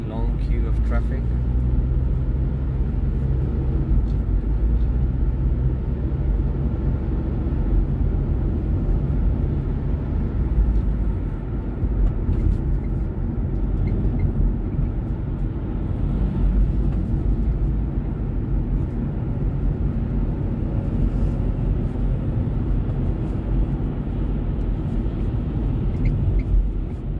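Low, continuous rumble of queued cars idling and creeping in motorway traffic on the M25, heard from inside a vehicle with a steady engine drone, and a person talks over it at times.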